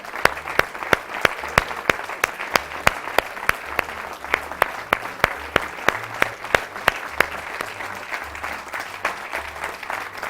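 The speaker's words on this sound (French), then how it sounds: "On peut les applaudir bien fort." Lively applause from a concert audience, thick clapping throughout with one or two hands striking sharply near the microphone in a steady beat, while a low hum runs underneath.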